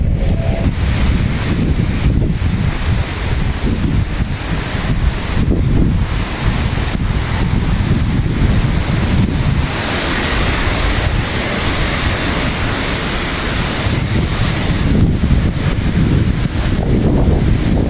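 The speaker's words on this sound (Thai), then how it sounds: "ลมพัดกระหน่ำเยอะมากเลยค่ะ" Strong wind roars steadily across the microphone, a loud, constant blustery rumble with gusts rising and falling and no voices.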